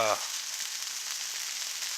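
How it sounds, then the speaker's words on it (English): Catfish sizzles steadily on a hot Blackstone griddle, a continuous bright crackling hiss that holds level throughout after a brief voice at the very start. "Just listen to that sizzle, guys. Listen to that sizzle."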